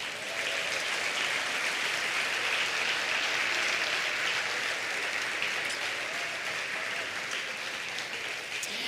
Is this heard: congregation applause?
yes